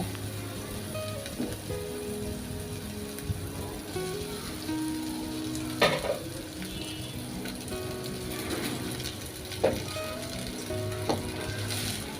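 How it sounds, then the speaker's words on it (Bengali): Rice being stirred and fried in a pan with egg, a soft steady sizzle with intermittent spatula scrapes and a couple of louder knocks against the pan. "তারপরও সেভাবে করে আমি নেড়ে নিচ্ছি"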